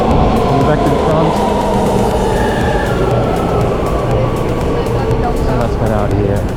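An Amsterdam metro train rumbles loudly and steadily through an underground station, a continuous close roar with faint squeals above it.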